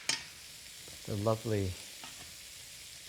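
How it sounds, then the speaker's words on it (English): Vegetables stir-frying in a hot wok give a steady low sizzle throughout, while a voice speaks briefly over the cooking. "It's like the wok is talking to you by that sizzling, which tells you that it's hot enough"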